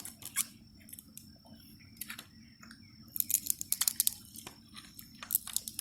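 A boiled crawfish tail being peeled, with crisp crackling snaps and tearing of shell in irregular bursts, close and fairly faint, over a low steady background hum.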